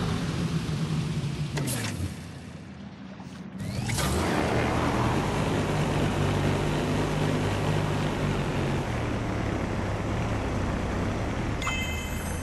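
A propeller airplane in the Nintendo Labo Drive Kit game drones steadily with a humming engine tone. It dips briefly early on, then holds loud and even to the end.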